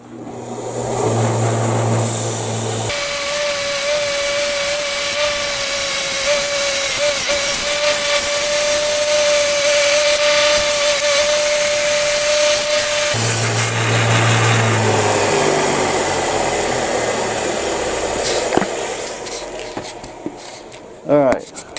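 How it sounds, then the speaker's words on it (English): A power tool grinds and sands a metal antenna mount in a workshop with a steady, loud whine. Short stretches of rougher noise come before and after it, and the sound is close. "So I'm going to take it over there now and see if I can sand it down a wee bit"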